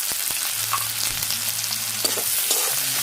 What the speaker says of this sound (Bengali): লবণ দিয়ে পেঁয়াজটা ভালো করে লাল করে ভেজে নেব।